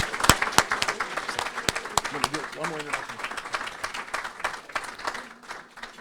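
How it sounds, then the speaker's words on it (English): Scattered claps from a room of people for Lieutenant Governor Janice McGeachin of Idaho at a Capitol Hill briefing, sparse and uneven, mixed with voices talking over them. "we could give her a round of applause."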